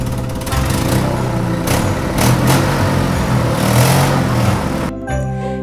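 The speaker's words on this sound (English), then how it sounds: "very soon they could hear his truck motoring towards them" A truck engine drones steadily close by, with a rough mid-range rumble that swells slightly as it approaches, then cuts off near the end as the motor stops.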